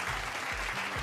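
Applause from an award ceremony audience, a brief burst of clapping from a crowd filling the room.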